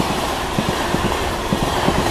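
The Avadh Assam Express passenger train rushes past at high speed, a steady loud roar of rolling stock with rhythmic clickety-clack of wheels over rail joints, heard up close.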